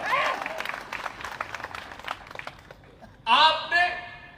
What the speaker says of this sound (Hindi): उस बच्चे के ऐतिहासिक जवाब पर तो ताली बजाई